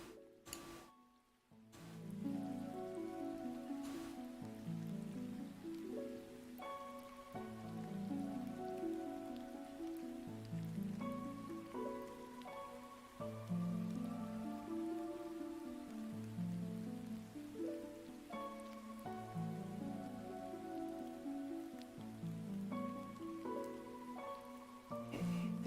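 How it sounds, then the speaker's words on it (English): Soft rain ambience mixed into gentle, Nintendo-style lo-fi music, with a steady patter of rainfall running under the melodic tones throughout. "Some soft rain"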